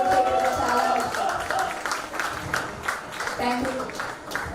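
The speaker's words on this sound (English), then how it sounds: "Please give a big round of applause." An audience at a chapter launch event applauds for several seconds, steady clapping from a crowd with voices mixed in, strongest at the start and easing slightly toward the end.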